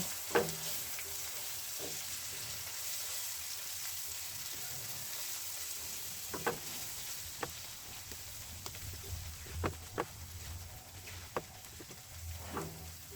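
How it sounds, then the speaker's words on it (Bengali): Spices, salt, garam masala and turmeric fried with tomato in a pan, a continuous sizzle with intermittent scraping and knocking of a stirring spoon, no talk. "এমনভাবে কষাতে হবে যেন টমেটো গলে মশলার সাথে মিশে যায়।"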